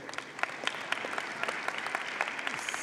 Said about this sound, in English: You can applaud, it's okay.